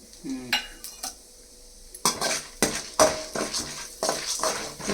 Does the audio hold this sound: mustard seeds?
yes